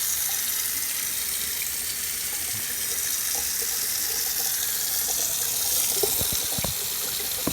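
Water runs steadily from a tap at a house, a broad continuous hiss throughout, with a few brief knocks or clatters near the end and no talk.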